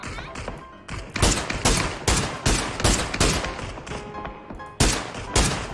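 Rapid gunfire in the battle royale game PUBG, heard as repeated loud, close bursts of shots with brief gaps between the volleys.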